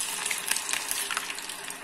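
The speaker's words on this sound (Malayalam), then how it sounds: "ഇനി നമുക്ക് ഇത് എണ്ണയ്ക്കകത്തേക്ക് ഇടാം" Onion vada batter dropped into hot oil sizzles and crackles steadily with bright, hissing spatter and small popping bursts, close and continuous with no talk.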